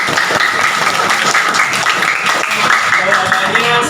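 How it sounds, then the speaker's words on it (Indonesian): Applause from a class or workshop audience on differentiated learning, steady clapping lasting several seconds with voices talking over it. "Beri tepuk tangan sekali lagi"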